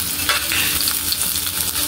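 Garlic and onion sizzle and crackle steadily in a pan while being stirred, a dense continuous frying hiss with scraping spoon strokes close by, for chicken pastil.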